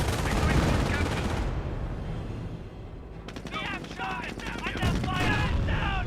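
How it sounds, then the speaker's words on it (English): Gunfire in the Company of Heroes World War II strategy game: dense rattling machine-gun bursts and shots, loud and continuous, with brief crackling volleys and distant battle noise in the later part. "Snipers firing away."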